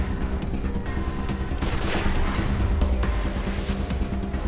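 A sharpshooter's headshot rings out in Wasteland 2 combat, a loud gunshot burst midway through over a continuous bed of rumbling battle noise.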